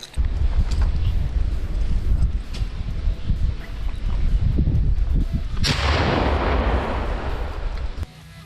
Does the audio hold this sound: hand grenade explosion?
yes